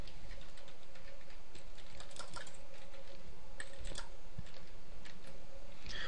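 Steady, rapid typing on a computer keyboard while entering HTML code in an editor, a continuous patter of close, crisp key clicks with no talking.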